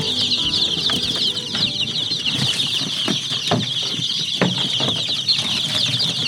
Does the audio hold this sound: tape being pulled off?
no